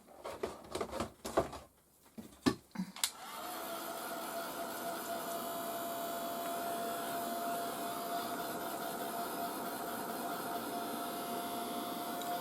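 A dryer blows on freshly applied fabric dye, first a few rustling clatters and taps, then a steady, fairly quiet whirring hum of air that runs on evenly for about nine seconds without talk.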